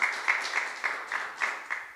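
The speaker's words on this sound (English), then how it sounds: "we can give them a round of applause." Audience applause at a ClimateLaunchpad 2021 innovation competition ceremony, a moderate wash of clapping with regular louder pulses about every quarter second, as if the crowd claps in rhythm.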